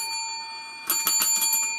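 A notification bell sound effect, a small bright bell, rings in a quick cluster of about five clear dings after a brief stretch of near-silence with a faint steady tone, fairly close and with no talking.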